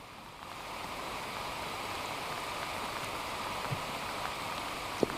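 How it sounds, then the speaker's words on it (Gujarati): Heavy downpour over a flooded village near Surat in south Gujarat, a steady, dense wash of rain noise that holds evenly throughout with a few faint drips and knocks standing out near the end. "સુરત સહિત દક્ષિણ ગુજરાતમાં વહેલી સવારથી ધોધમાર વરસાદ વરસી રહ્યો છે"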